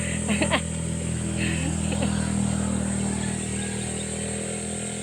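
A nearby motorcycle engine idles with a steady buzzing hum, and voices talk briefly over it near the start.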